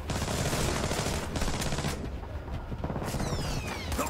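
Rapid bursts of automatic gunfire in the stealth shooter Splinter Cell: Blacklist, loud and dense, rattling in quick volleys with short pauses between them.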